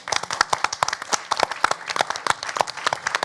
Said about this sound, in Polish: brawa dla was